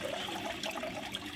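Steady flowing, trickling water from a small backyard patio pond's filtration, a continuous close splash and gurgle with no voices.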